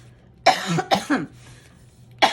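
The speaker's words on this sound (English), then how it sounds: "I still have my COVID cough." Several sharp coughs close by from a lingering post-COVID cough, two in quick succession, then a pause and one more cough, with quiet room noise between.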